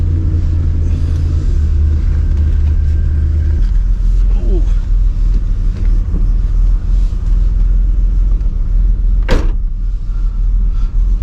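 Turbo Trans Am engine idling in a parking lot while warming up, a steady low rumble that shifts slightly partway through, with a brief sharp mechanical noise near the end.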